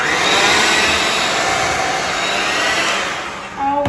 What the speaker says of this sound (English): So mix that in, dry ingredients and milk. Let that go until you get a nice golden doughy consistency.